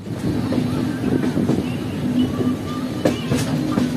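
Tamralipta Superfast Express rolling onto the Panskura main line toward Mecheda, a continuous loud rumble of wheels and carriages with wind noise buffeting the microphone, heard from on board.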